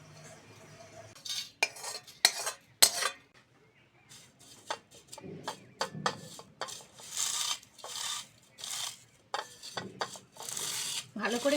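Fried neem leaves are lifted and scraped out of a pan with a metal utensil, giving irregular clinks, scrapes and rustling bursts separated by quiet pauses, close and fairly soft.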